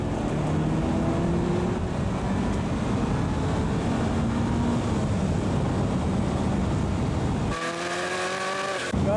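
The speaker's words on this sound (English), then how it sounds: "And braking quite hard. And now we'll be accelerating down the straight." Nigel Mansell's racing car accelerating along a straight, a steady loud engine drone with rising gear-change whines, then a sharp jump to a higher-pitched rev near the end.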